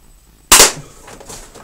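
A TPS airsoft gun fires a single 0.20g BB, giving one sharp, loud snap with a short decaying tail, then quiet background. No one talks.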